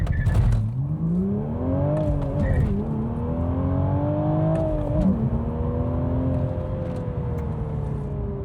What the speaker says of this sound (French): On va essayer un petit départ arrêté.